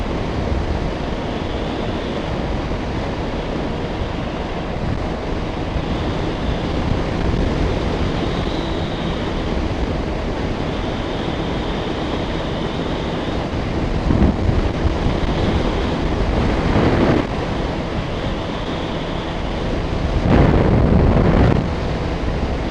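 Strong wind buffets an outdoor microphone, producing a loud, continuous broadband roar with a few heavier gusts swelling near the middle and end; no one speaks.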